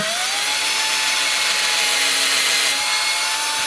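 Close, steady drone of a power drill grinding through wood, with a rough scraping texture and no pauses.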